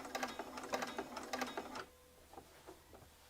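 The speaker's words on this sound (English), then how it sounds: "And then I'm going to sew very slowly." A sewing machine stitching slowly, its needle clattering in a steady run of rapid mechanical taps up close before easing into slower, sparser clicks as the fabric is turned.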